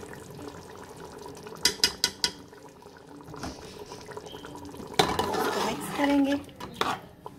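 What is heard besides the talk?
spoon stirring yogurt and fresh cream mixture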